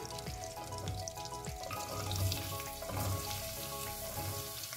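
Sliced onions sautéing in a pressure cooker for pulao, giving a moderate sizzle broken by soft stirring clatters and a few watery drips, with no voices.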